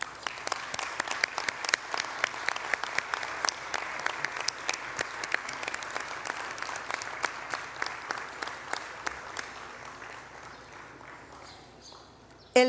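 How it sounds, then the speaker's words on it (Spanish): An audience at an academic science award ceremony applauds steadily, dense clapping filling the room for several seconds before tapering off near the end. "Si gustan, podríamos obsequiarle un aplauso."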